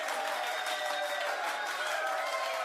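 A crowd claps and applauds in a dense, even wash of hand claps that holds steady throughout, with a faint tonal hum beneath and no clear talking.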